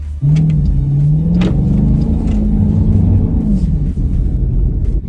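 A Jeep Grand Cherokee SRT drives over bumps on a slippery Canadian winter road, giving a loud, close cabin rumble with a shifting engine tone and occasional thumps.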